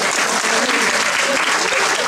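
Audience applause at a press gala evening in a château hall, a dense, steady wash of clapping filling the room at close range for about two seconds.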